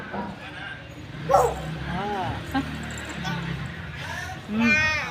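Voices exchange short yelping calls, one person imitating a dog's barks in a few quick bursts, with chatter around them.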